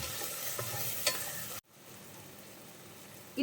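Soya chunk biryani masala with lemon juice sautés in a pan, a close crackling sizzle with stirring strokes that cuts off abruptly, leaving a quieter low hiss and a final clink.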